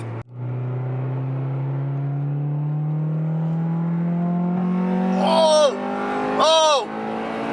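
A Honda Integra GSR with an aftermarket exhaust revs and climbs in a steady rising drone, then its VTEC engages for a sharper, louder howl. A driver exclaims over the engine, and two brief upward swoops follow near the end.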